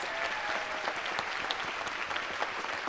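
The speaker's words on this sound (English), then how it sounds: "Please give a big round of applause" A medical school awards ceremony audience applauds its recipients with steady, continuous clapping from a large crowd, fairly distant and even in level throughout, with no voices on top.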